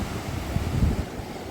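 Sea waves wash steadily onto a sunny Odesa beach, a continuous low surf roar mixed with wind buffeting the microphone.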